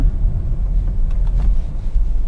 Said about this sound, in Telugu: ఇప్పుడు చూడండి స్పీడ్ బ్రేకర్ దగ్గర నేను సెకండ్ గేర్లో కొంచెం స్పీడ్ వెళ్ళి కంట్రోల్ చేస్తున్నా